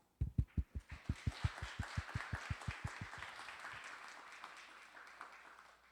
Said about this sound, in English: let's welcome him onto the stage screen with a big round of applause